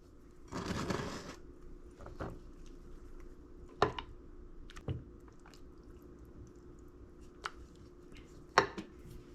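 Breakfast casserole ingredients mixed in a bowl give soft, quiet scraping and squishing, with a brief rustling burst and scattered light taps of a utensil against the bowl.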